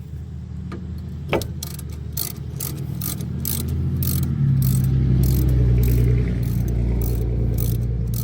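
Close, loud ratchet clicking in steady rapid bursts as a 10 mm bolt is loosened on a 2011 Ford Edge during CV axle work, with metallic taps and a low mechanical hum underneath.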